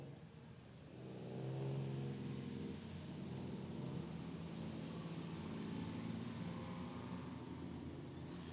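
Modified production race car lapping Kingaroy Speedway, its engine droning and revving at a distance in a steady, rising and falling roar that carries on without a break and without talk.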